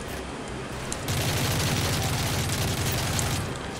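Rapid gunfire in Modern Warfare 3 erupts as a dense, steady burst of shots after a brief quieter stretch, loud and continuous to the end.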